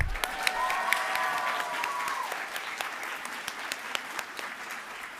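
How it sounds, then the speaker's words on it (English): The graduating class at a multicultural graduation ceremony applauds in a dense, sustained round of clapping, with a brief cheer or whistle rising early on above the crowd. "Give yourselves one more huge round of applause"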